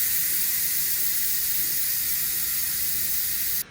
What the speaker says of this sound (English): I'm going to do the steam release, if there's any steam still left in there.